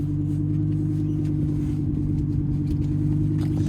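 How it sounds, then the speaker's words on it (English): Audi R8 V10 Plus, 610 hp, idling after a push-button start: a steady, deep engine rumble close up, even and continuous with no rev spikes and no talk. "And then we do have push button start."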